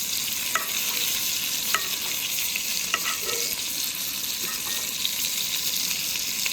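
Steak with garlic sizzling in a pan at a truck-cap campsite in the Catskills, a steady loud crackling fry with a few faint clicks of a utensil, no talking.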